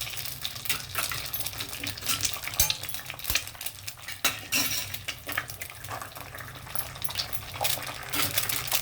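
Beaten eggs fry in hot oil in a pan for coriander egg fried rice, a continuous close sizzle broken by sharp scrapes and clinks of a stirring utensil.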